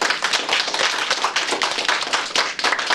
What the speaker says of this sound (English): let's give Ty a round of applause